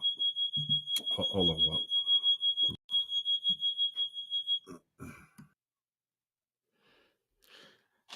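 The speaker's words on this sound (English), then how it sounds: "May get that smoke detector fixed." A smoke detector sends out a fast, steady run of rapid high-pitched beeps, loud and close, with a brief gap, while a person sneezes and speaks briefly nearby before it goes quiet.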